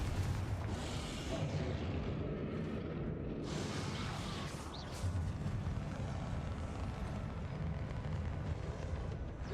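Explosive Confringo spell blasts from a wizarding video game: a continuous dense rumble of booms and crackling debris, with sharper bursts standing out partway through, loud and close with no talk over it.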